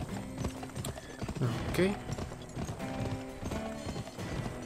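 Horse hooves clip-clop in a steady rhythm in the western video game GUN, mixed with game music and a brief whinny, while someone speaks briefly over it.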